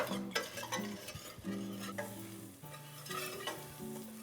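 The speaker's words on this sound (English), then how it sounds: "we'll just whisk that flour in. We're gonna cook that with the butter and the shallots" Flour whisked into melted butter and shallots in a hot pan, with busy rhythmic scraping and clinking of the whisk over a constant sizzle, close and continuous.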